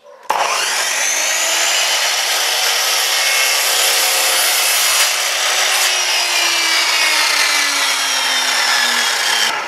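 A power saw's disc cuts through a wooden board for wall cladding, a loud, steady, high-pitched whine that holds for nearly ten seconds with slight changes in pitch as the blade works.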